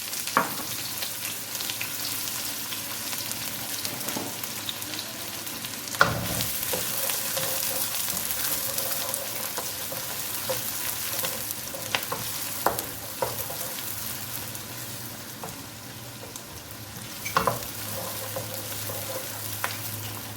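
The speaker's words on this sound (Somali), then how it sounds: "basashaas ayaan kusoo shubayaa haddana basalaha" Onions frying in a pan for a home-cooked lunch give a steady, close sizzle that runs throughout, with a few sharp clinks and scrapes of stirring and no talking.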